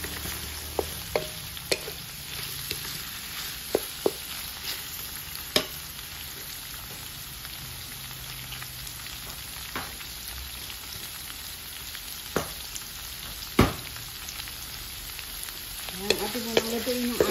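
Pork belly sizzling in a pan for a sinantolan dish with coconut milk, a steady fine crackle of hot fat with occasional louder pops and stirring clinks, close and continuous without talk.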